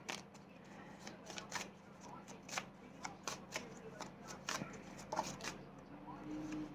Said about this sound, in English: You've got cards flipping out like crazy.